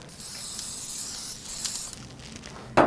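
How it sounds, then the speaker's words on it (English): Cooking spray sprayed onto a pan, a sustained airy hiss from an aerosol can lasting nearly two seconds, then quieter room tone ending in a sharp brief knock. "So now we are going to just spray a pan with some cooking spray."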